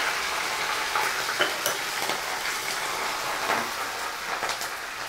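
Spices and curry leaves frying in oil in a pan for chicken kurma, a steady close sizzle with scattered crackles and pops, no talking.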